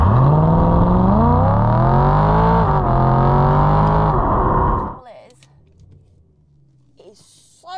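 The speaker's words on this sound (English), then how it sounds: "the sound of that V8 is incredible" A BMW E92 M3's deep V8 exhaust roars loudly while revving and climbing in pitch, then cuts off abruptly, leaving quiet ambience and a faint distant engine.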